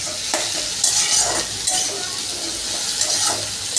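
Vegetables for soybean chilli fry in a pan, a constant close sizzle broken by scraping stirring strokes and the occasional clink of a spoon against metal.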